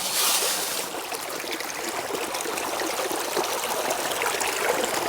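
Creek water flowing steadily in a secluded outdoor spot, a continuous close hiss and trickle with even loudness throughout, no voices.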